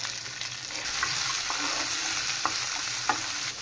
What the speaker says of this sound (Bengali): আর এখন আমি এই তেলের মধ্যেই বরবটিটা ভাজবো।